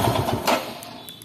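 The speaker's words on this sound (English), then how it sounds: "stop the engine." A Royal Enfield Himalayan motorcycle engine clatters briefly up close, then is switched off and fades out within about a second.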